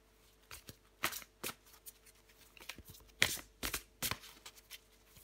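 Tarot cards being shuffled by hand, a string of quick, crisp riffling bursts and papery snaps at irregular intervals, close up and quiet, with no talk.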